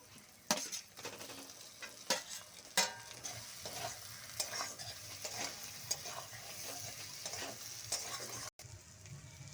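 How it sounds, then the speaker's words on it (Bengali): Fried eggs stirred into spice masala in a pan for a Bengali egg curry, a soft sizzle broken by repeated knocks and scrapes of a spatula, fairly quiet, with a brief dropout near the end. "এবার আমি এই ডিমগুলো দিয়ে আরো কিছুক্ষণ কষিয়ে নেব।"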